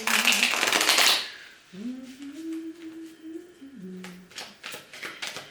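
A quick riffle of shuffled tarot cards up close, followed by a soft hum and a few light card taps and flicks.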